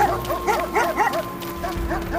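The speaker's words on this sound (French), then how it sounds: "vous entendez des grognements au loin et des chiens sauvages foncent sur vous" Wild dogs in a fantasy dungeon game scene give a quick burst of short barks and yips over background music, growling as they charge close and loud for a couple of seconds.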